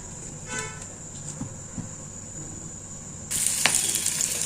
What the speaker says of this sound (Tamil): கடாயில் வந்து இப்போ பார்த்திங்கன்னா பெரண்டையை போட்டுக்கலாம் பெரண்டை தான் நல்லா வறுபடணும்